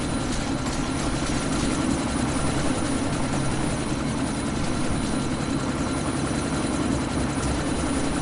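A helicopter roars continuously and close in the Deus Ex: Mankind Divided game, its rotor chop thick and loud for the whole stretch with no speech.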